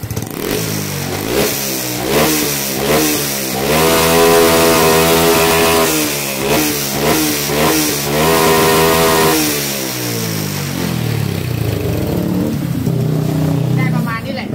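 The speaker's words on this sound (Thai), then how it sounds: "เปิดคันเร่งแรกๆเนี่ยเบามากนะเปิดคันเร่งได้ดีมาก" A new rental motorcycle in Yala, its engine revved repeatedly by hand on the throttle, rising and falling through sharp climbs up to a high held rev, loud and close, with someone talking over it.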